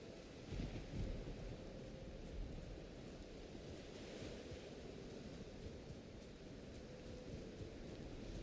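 A thunderstorm with steady rain rolls through the Valheim game world, a continuous broadband wash of rainfall with a low rumble of thunder swelling early on and persisting beneath, no voices present.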